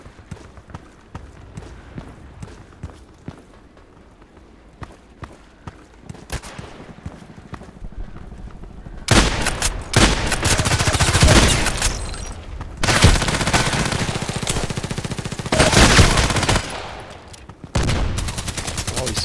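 Rapid UMP45 submachine gun bursts and other gunfire in the Contract Wars shooter, loud and dense through the second half, with quieter clicks and footsteps beforehand.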